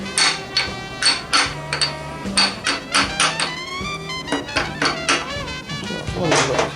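Repeated hammer blows on nails, struck in irregular bursts of sharp, ringing impacts, loud and close, with a low hum in the background.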